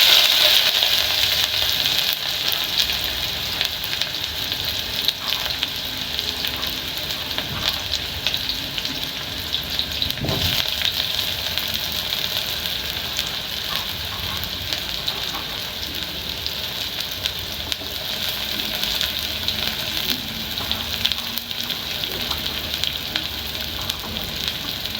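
Onions frying in hot cooking oil for pilau, giving a continuous, bright crackling sizzle with a few small pops throughout.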